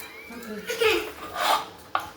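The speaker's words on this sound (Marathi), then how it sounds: "त्याला बेलण्यानं लाटायचं" A rolling pin works sweet, crisp shankarpali dough across a board in two soft rasping strokes, ending with a brief sharp tap, all fairly close and quiet.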